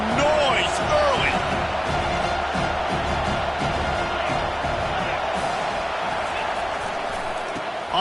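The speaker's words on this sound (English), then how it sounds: "This crowd bringing the energy and noise early." A large college football stadium crowd in the video game NCAA 25 roars with sustained noise, cheers and whoops rising out of a dense wall of sound while a commentator talks over it.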